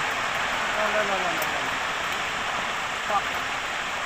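A full stream rushes steadily in a constant broadband wash of flowing water, with a faint voice briefly audible over the roar.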